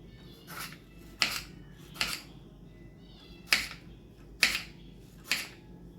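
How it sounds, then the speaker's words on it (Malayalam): A knife chops through a tomato for chicken curry in six sharp, separate strikes spaced about a second apart, each a crisp close click against a board with quiet pauses between. "ഇനി നമുക്ക് തക്കാളി എടുത്ത് കട്ട് ചെയ്യാം"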